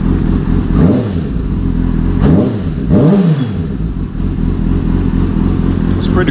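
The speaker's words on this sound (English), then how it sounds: "Alright, so this is what my Two Brothers sounds like." A 2005 Kawasaki Ninja 636 with a Two Brothers exhaust, close and loud, idling with a rumble and blipped through three quick revs that rise and fall, a steady throaty drone between them.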